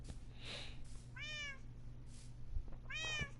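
Cats meow in Minecraft, two distinct rising-and-falling calls about two seconds apart, clear and fairly close over a faint low background hum.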